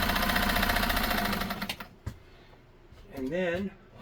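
A Nesco De Luxe push-button zigzag sewing machine stitches forward with a rapid, steady mechanical clatter close by. It stops after nearly two seconds, a sharp click follows, then a voice speaks briefly.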